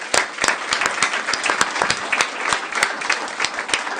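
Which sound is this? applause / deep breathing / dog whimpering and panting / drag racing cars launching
applause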